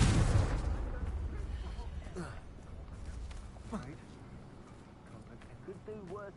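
A Confringo spell blast in a wizard video game bursts loudly right at the start, a deep booming explosion that rumbles and fades, followed by quieter game ambience with faint voice-like chirps.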